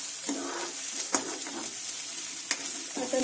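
Boiled potatoes frying in a pan for a spicy savoury masala, a steady close sizzle with a few sharp stirring scrapes and clicks and no talk.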